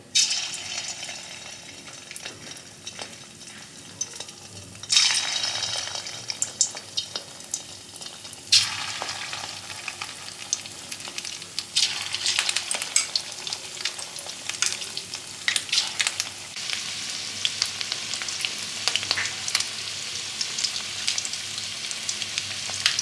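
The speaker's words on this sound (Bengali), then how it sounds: "এবার আমি মাছগুলোকে এক এক করে দিয়ে ফ্রাই করে নেব" Egg-coated pieces of katla fish fry in hot oil for chilli fish, a steady crackling sizzle that flares louder as each piece goes into the pan, then settles into continuous close spitting and popping without talk.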